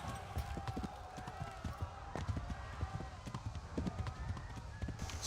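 Horse hooves clip-clop in the medieval Bohemian role-playing game Kingdom Come: Deliverance, a steady rhythmic beat of moderate loudness under a busy game soundscape, with no talking.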